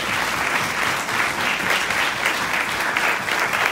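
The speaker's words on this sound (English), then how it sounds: "let's give a round of applause to our team" Steady, dense applause from a large conference audience, loud and sustained throughout with no pauses.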